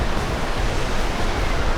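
Ocean waves break on a sandy New Zealand beach, a dense, continuous close-up roar of surf with no voices over it.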